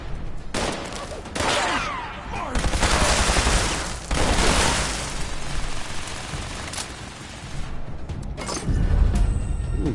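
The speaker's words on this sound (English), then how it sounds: "Ooh, that super mutant shooting there." A super mutant firing in Fallout 76, sustained bursts of rapid gunfire rattling across the whole stretch with brief pauses and a heavier boom near the end, loud and close, almost no talk.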